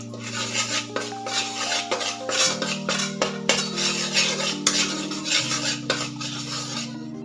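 Gram flour sautéing in hot oil in a pan, heard as a spoon repeatedly scraping and clinking against the metal in an uneven rhythm, close up and fairly loud, with a faint ringing tone from the pan.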